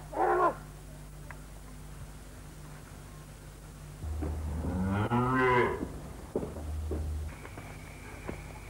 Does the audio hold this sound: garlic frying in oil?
no